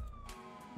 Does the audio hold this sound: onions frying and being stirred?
no